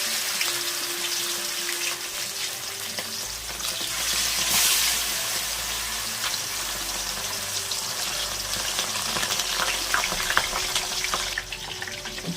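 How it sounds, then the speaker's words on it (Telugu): Fish deep frying in hot oil gives a continuous, even hiss and bubbling sizzle, close and steady for the whole stretch with a brief swell near the start. "ఆయిల్ వేడెక్కిందండి అనేసి చేప వేస్తున్నాను"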